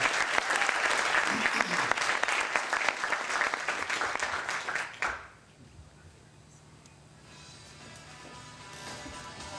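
A seminar audience gives a round of applause for Jennifer, Monica and Patricia: dense, fairly loud clapping for about five seconds, then it cuts off sharply into a quiet room with faint murmuring.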